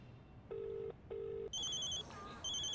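A phone rings in an indoor scene from a TV drama, with two evenly spaced electronic ring pulses followed by a higher, warbling ringtone melody at moderate volume.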